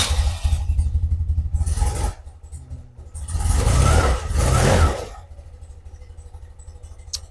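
A BMW R100RT Classic flat-twin motorcycle engine, restarted after 20 years unused, cranks and catches, revving up loudly for a couple of seconds before settling into a low, steady idle.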